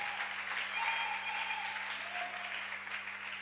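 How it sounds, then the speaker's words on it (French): A church congregation clapping for themselves during a service, a steady, dense wash of applause that holds evenly throughout, heard from within the crowd with a faint hum underneath. "Please do clap for yourselves."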